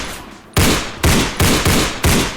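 A weapon from a Minecraft Bedrock weapons add-on fires five loud, close shots in a steady, slightly uneven rhythm, each a sharp burst with a short decaying tail, no talking.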